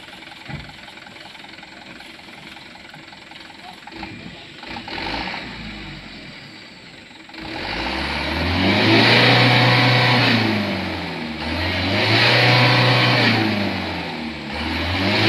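A car engine ticks over at a low idle, then revs up in two strong rising bursts that fall back between them. It is loud and close, with no one speaking.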